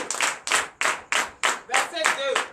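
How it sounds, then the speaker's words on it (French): A congregation at a church service claps in acclamation, with broad repeated bursts of applause in a steady pulse of about two per second. A voice sounds faintly underneath near the end. "Donnez l'acclamation à Christ."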